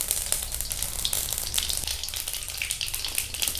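Mustard seeds and cumin sizzle and crackle in hot oil in a pan for tamarind pulihora, a loud close frying hiss with scattered sharp pops across the whole stretch and no talk.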